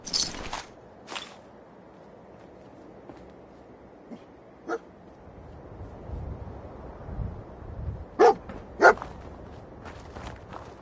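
The dog companion Dogmeat in the Fallout 4 video game gives a few sharp barks and yips, mostly near the end, over a quiet game ambience with soft footsteps and some whimpering.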